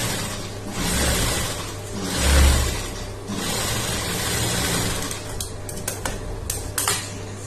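Sewing machine edge-stitching a blouse lining, a steady mechanical whir with rapid ticking that swells and eases over several seconds, close and alone without talk.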